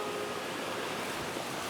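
A larger waterfall roars as a steady, dense broadband rush of falling water, loud and continuous throughout with no talking.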